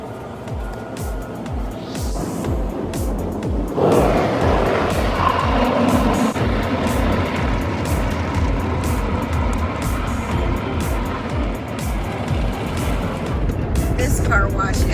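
An automatic car wash runs over a car in a steady, loud wash of spraying and rumbling machinery that grows fuller partway through and continues without a break, with a voice talking over it.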